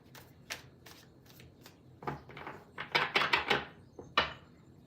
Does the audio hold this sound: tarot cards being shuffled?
yes